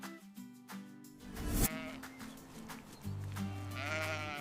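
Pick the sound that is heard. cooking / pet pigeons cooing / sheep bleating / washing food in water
sheep bleating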